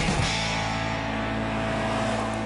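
A 2015 Toyota Corolla LE Eco driving, a steady, close engine and road drone inside the cabin with a brief rise at the start, continuous and without talk.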